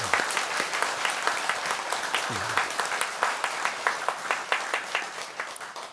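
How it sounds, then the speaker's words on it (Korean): A temple congregation at a Buddhist dharma gathering at Bomunsa in Sangdo-dong applauds for the abbot in steady, dense clapping that carries on for several seconds, with a brief voice at the start. "우리 주지스님을 위해서 한번 박수를 한번 쳐주셔야겠습니다"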